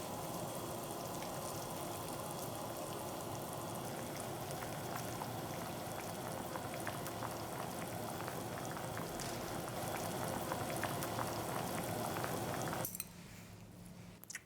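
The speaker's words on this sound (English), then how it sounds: "Meanwhile, it's boiling now." Oxtail soup bubbling hard in a pot, a dense continuous roil of boiling liquid, fairly faint and steady, cutting off abruptly near the end.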